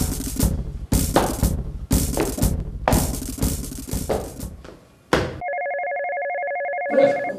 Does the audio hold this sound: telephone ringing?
yes